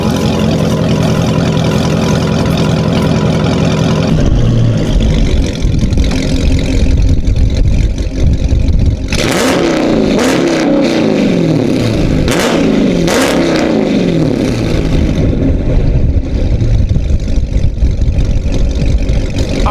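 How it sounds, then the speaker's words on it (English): Dodge Charger Scat Pack with catless mid pipes in track mode, steady loud exhaust that breaks into several sharp revving bursts mid-clip before settling back to a rumbling idle, close and alone with no talking. "Let y'all hear it in track mode with no cats."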